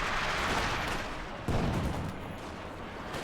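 A Panzerwerfer rocket artillery barrage in the video game Company of Heroes, heard as a dense, continuous roar of rocket fire and impacts, with a sharp new surge partway through that then settles into a steady rumble.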